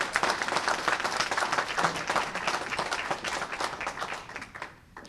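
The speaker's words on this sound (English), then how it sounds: "Let's give her a big round of applause." Clapping from an audience at a Seattle building emissions legislation signing, close and lively at first, then thinning and fading out over a few seconds.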